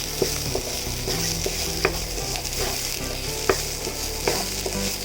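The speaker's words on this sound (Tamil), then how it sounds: "ஆனியன் வந்து நல்லா கோல்டன் ப்ரௌன் ஸ்டேஜில் வந்தோடனே நம்ம வந்து கருவேப்பிலை போட்டுக்கலாம்." Curry leaves sizzle in hot oil with golden brown onions in a pan for egg kothu parotta, with a steady frying hiss and regular scrapes of a spoon stirring, and no voices.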